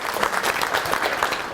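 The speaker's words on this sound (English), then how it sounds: "Give her a round of applause." Steady audience applause from a college event crowd, dense and continuous clapping throughout the short stretch with no speech over it.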